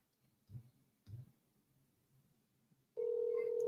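A phone held right up to a microphone starts a loud, steady ringing tone near the end, after a few soft thumps and low background murmur.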